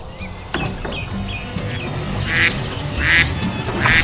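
A duck in a children's farm-animal cartoon gives a series of rapid, squawky quacks that grow louder toward the end, over light background music and effects.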